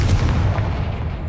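The Confringo explosive spell in Hogwarts Legacy detonates as a loud, heavy boom with a deep rumbling body that holds for about a second, close and forceful, with no voices.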